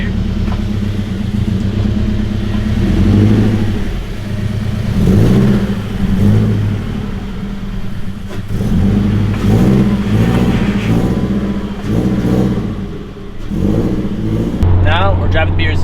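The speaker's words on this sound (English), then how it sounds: "you can enjoy some little boosty noises throughout the neighborhood here" A turbocharged Subaru BRZ driving through a neighborhood, its engine revving in repeated loud bursts that rise and fall with boost noises, heard from close inside the car, ending in a sharp whooshing release.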